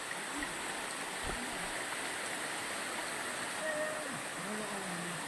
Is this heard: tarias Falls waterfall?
yes